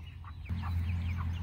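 Chickens in a mobile chicken tractor give soft, scattered clucks over a steady low hum, a few short calls close by with no talking.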